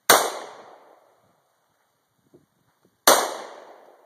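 Two loud, sharp handgun shots fired during shooting practice, about three seconds apart, each a hard crack trailing into a short echoing decay with quiet between.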